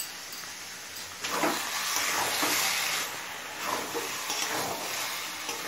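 Chopped coriander is stirred into cooking bottle gourd and spinach, soft sizzling underneath several bursts of spoon scraping through the greens, close and uneven in rhythm.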